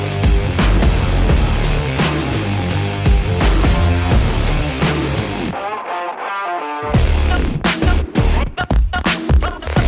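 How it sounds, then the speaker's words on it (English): An angle grinder cuts a nut off the suspension arm of a BMW 3 Series, a loud sustained whine with gritty grinding that briefly cuts out and then spins back up. "1 angle grinder and 1 nut."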